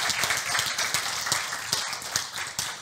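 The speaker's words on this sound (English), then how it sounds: "a round of applause for David and Joe" Applause from a conference audience for two presenters, a dense, steady patter of many hands clapping throughout, fairly close and with no talk over it.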